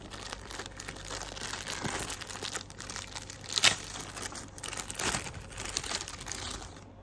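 A Garmin Fenix 5X watch strap is unwrapped from a plastic bag and bubble wrap, giving close, steady crinkling and rustling with a few sharper crackles.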